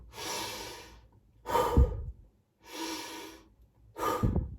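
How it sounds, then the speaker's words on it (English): Two slow, audible cycles of deep breathing, each long airy inhale followed by a heavier exhale, close and alone with quiet gaps between. "deep breath in, deep breath out"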